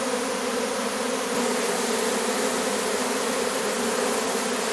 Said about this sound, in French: le premier essaim de l'année